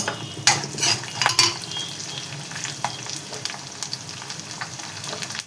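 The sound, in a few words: mustard seeds, dals, cashews, chillies, curry leaves frying in oil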